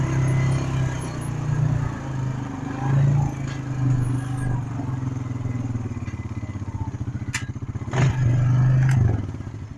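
A 2001 Honda Rancher quad's engine runs steadily with a low rumbling drone, joined by scattered clatter and scraping knocks, with a brief louder swell near the end.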